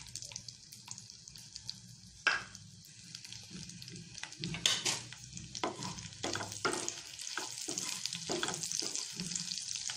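Chopped green chillies frying in salted butter over a medium flame, a steady close sizzle with stirring scrapes and a few louder clatters of a spoon against the pan, no voices.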